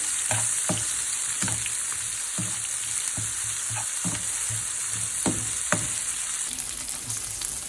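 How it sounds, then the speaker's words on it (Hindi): Malai chicken seekh kebab sautés in a pan with a steady close sizzle, broken by regular soft clacks from stirring or turning roughly once a second, with no voices. "इसको जलाना नहीं है, ऐसे ही थोड़ा सा इसको सौटे करना है"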